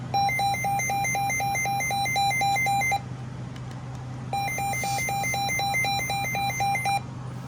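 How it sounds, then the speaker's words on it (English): Midland WR120 DSP weather radio sounding its alert test siren, a rapid pulsing electronic warble that runs for about three seconds, breaks off briefly, then resumes over a low hum. "You'll notice that the siren on the DSP is slower than the Easy."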